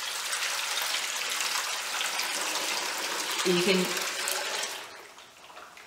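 Water gushes in a steady, loud, close pour over drying reclaimed clay in a slop bucket, with a brief spoken remark partway through before the flow eases off near the end.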